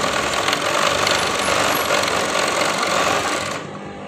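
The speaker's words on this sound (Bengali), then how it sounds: "তো এখন আমরা মেশিনটা চালাইতেছি, দেখতেছেন ভিউয়ার্স আমরা মেশিনটা চালাইতেছি।" An industrial sewing machine runs just after a timing adjustment, giving a steady, dense mechanical whir with fast rapid stitching texture at a constant loud level for about three and a half seconds, then stopping abruptly.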